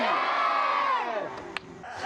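A church congregation shouts together in loud response during a Hindi-Urdu worship service, a big crowd roar that swells and then fades over about a second, followed by a sharp clap and scattered voices.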